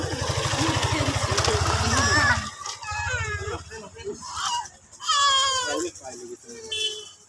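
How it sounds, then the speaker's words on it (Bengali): A motorcycle engine rumbles close by for a couple of seconds, then drops away as people talk over the passing traffic. "আবার বাইক আসছে"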